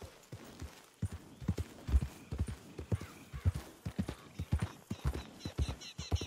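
Horse hooves clip-clop in a steady, brisk rhythm as a horse is ridden in Red Dead Redemption 2, close and distinct, with no talking.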